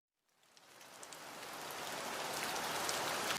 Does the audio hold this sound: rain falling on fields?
yes